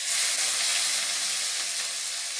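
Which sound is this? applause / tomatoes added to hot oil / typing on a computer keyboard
tomatoes added to hot oil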